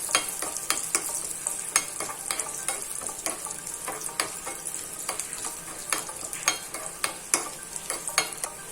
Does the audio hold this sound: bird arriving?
no